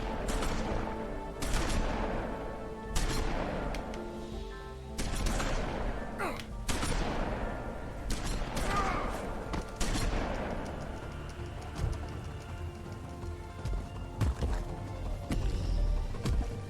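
Shotgun blasts boom in a fight in the video game The Wolf Among Us, several loud separate shots with echoing tails spread over a tense scene, alongside faint game sounds.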